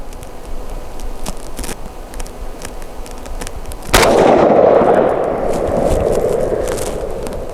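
A WBP Fox air rifle fires a single sharp, loud shot, preceded by faint clicks and followed by a lingering wash of noise from the outdoor range.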